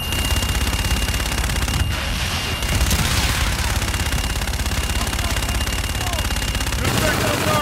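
An aircraft makes a strafing gun run in Call of Duty: Infinite Warfare over Geneva, Switzerland: a loud, sustained roar of rapid cannon fire with a short lull before the barrage resumes and continues to the end.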